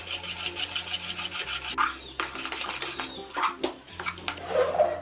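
Thick appam batter being stirred constantly in a pan on a low flame, scraped so it won't stick: steady, rhythmic rasping strokes, close and continuous, with no talk.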